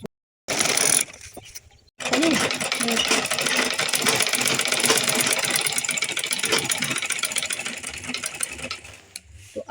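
A sewing machine stitches fabric close by in a continuous mechanical whirr, starting briefly, pausing, then running steadily for several seconds before stopping.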